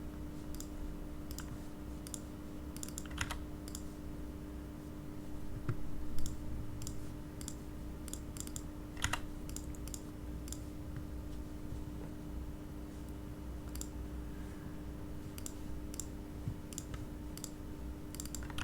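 Mouse clicks come in scattered sharp ticks, each short and fairly quiet, against a steady background hum with no talking during a computer editing session.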